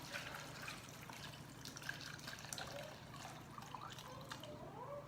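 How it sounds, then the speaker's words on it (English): Cooked vegetables and broth for a plant-based gravy are poured into a container, making a soft, continuous trickle with small splashes and drips, fairly faint and close, with no voices. "So I'm gonna be pouring this in here."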